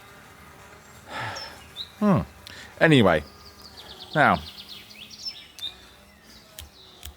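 Birds singing outdoors in sunshine near water, several clear chirping phrases of rising and falling notes close by, with a voice speaking briefly and a faint insect-like buzz in the background.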